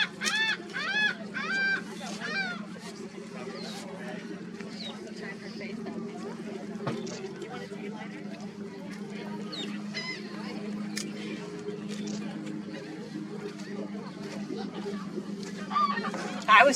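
Geese or similar fowl honk outdoors in a burst of repeated calls near the start, then scattered calls and chirps continue faintly over a low steady hum, with a sharper honk at the very end.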